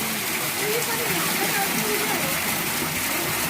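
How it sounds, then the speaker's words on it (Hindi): Water pours from two spouts into the Gomukh Kund temple pond at Chittorgarh Fort, a steady broadband rushing and splashing, constant and fairly loud throughout. "ये आप देखिए 2 जगह से पानी आ रहा है।"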